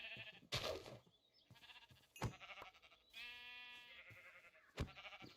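Sheep bleat repeatedly in a video game, a few separate calls spread across the clip, fairly close and clear, with game sound effects between them and no talking.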